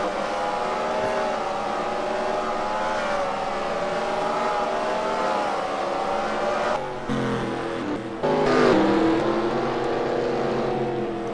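Race cars roaring down the backstretch at Langley Speedway in a stock car racing game, a steady droning pack of engines with layered whining tones and brief shifts near the end, continuous and fairly loud.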